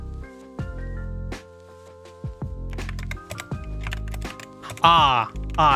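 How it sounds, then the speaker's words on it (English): A computer keyboard clacks in quick irregular bursts of typing while someone programs a video game, close and clear, with a voice briefly heard near the end. "the noises of the keyboard are nice"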